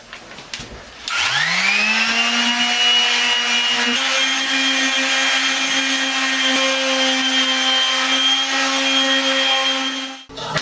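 A palm sander fitted with 150-grit paper works over a bathtub during a bathroom remodel. A steady, close motor whine spins up after about a second, holds evenly for roughly nine seconds, then cuts off, with no talking.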